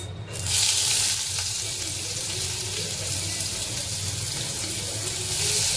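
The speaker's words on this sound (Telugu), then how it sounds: "సో నూనె హీట్ ఎక్కింది. దాని తర్వాత మనం ముందుగా వేసుకునేది ఆనియన్స్." Onions dropped into hot oil for a fish fry, a loud sizzling hiss that bursts up at once and keeps frying steadily up close, swelling again toward the end.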